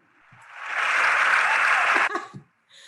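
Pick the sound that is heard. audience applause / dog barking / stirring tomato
audience applause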